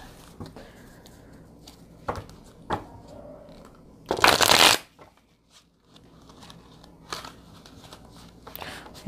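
Tarot cards being shuffled during a pick-a-card reading, a scattered papery patter of small riffles topped by one loud, dense shuffle burst lasting under a second near the middle, then quiet card handling.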